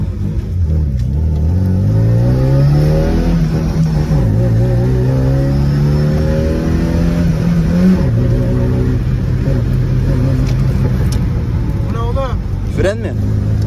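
A Tofaş car engine revs hard and accelerates through several rising gear pulls, loud and close from inside the car, with people talking over it.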